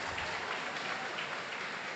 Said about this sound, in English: Shall we give them a big round of applause?